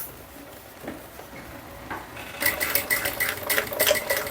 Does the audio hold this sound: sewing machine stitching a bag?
yes